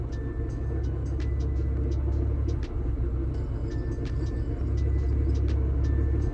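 A Honda Civic engine idles rough with a low, uneven rumble and a steady drone, close by, with faint ticking above it.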